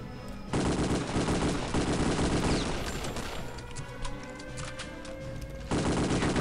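Gunfire in the shooter game Return to Castle Wolfenstein, a loud sustained burst of rapid automatic fire that breaks off mid-clip for ambient game noise before a final burst resumes, no talk.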